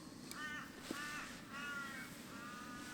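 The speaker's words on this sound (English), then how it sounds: "That crow, oh man, he's having a good old time." A crow caws repeatedly in a series of harsh, rasping calls from some distance in quiet Noosa Everglades bushland, with faint ambient background noise and no talking.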